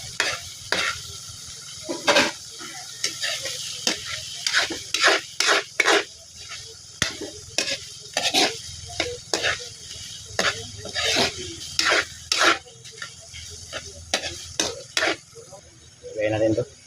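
Pork offal being stirred in a pot for sampayna, a pork blood stew, with frequent sharp scraping and clinking strokes of a utensil against the metal over a steady low sizzle, close and fairly loud.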